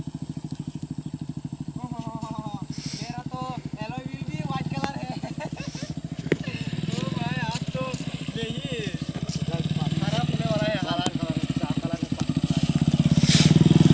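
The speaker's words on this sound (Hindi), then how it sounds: "तो अभी मेरा बाइक को लेकर आता हूँ।" A new motorcycle being ridden off-road across rough terrain, its engine droning steadily and building louder toward the end, with people talking over it throughout.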